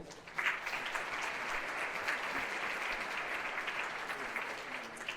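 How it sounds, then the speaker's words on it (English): Audience applause for school principals at a holiday jazz band concert, a steady wash of clapping from a crowd that holds for about five seconds before easing off. "So let's give a round of applause for our AMS principals"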